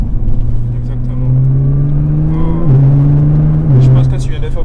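A Nissan GT-R R35 engine revs close by, a loud deep droning note that rises and steps through shifts, with people talking over it.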